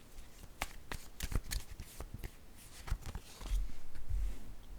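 Tarot cards shuffled by hand close up, a run of quick riffling snaps and soft slides with brief pauses between bursts.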